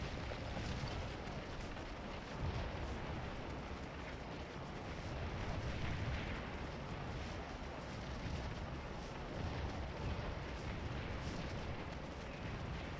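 Artillery fire in the Civil War battle game Scourge of War: Antietam, a dense continuous rumble of distant cannon and battle noise with no talk.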